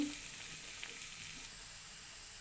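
Bottle gourd and shrimp fry together in a pan, producing a faint, steady hiss of sizzling oil with a few soft stirring touches and no talk.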